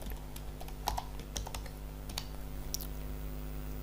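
Close, quick keystrokes on a computer keyboard while filling in an online form, a steady patter of clicks over a constant low electrical hum, with no voices.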